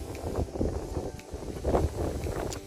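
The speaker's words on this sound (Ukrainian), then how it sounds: "вітер тут страшенний" Heavy wind buffets the microphone outdoors during a bike ride, producing a continuous low rumbling roar with gusty swells and no voices.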